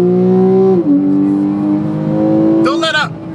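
A car accelerating hard on a road course, its engine droning loud and close in a steady rising tone, with a short harsh burst of noise near the end.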